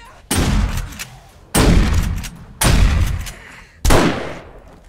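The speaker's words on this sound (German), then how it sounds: "Einfach mal schießen." Four heavy gunshots boom one after another at roughly even intervals in the survival game 7 Days to Die, each loud and close with a long rumbling decay.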